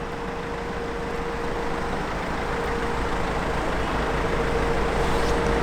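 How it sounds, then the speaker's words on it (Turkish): A car with a GPS/GSM tracking device placed inside runs as it pulls away, giving a steady, loud, broadband engine and road rumble that holds level throughout, with no voices. "Şimdi bunları aracın içerisine koyacağım ve araç bizden uzaklaşacak."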